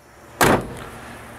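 A car door on a 1970 Chevy Malibu convertible shuts with a single solid, loud thunk, followed by a short fading rattle and quiet afterward.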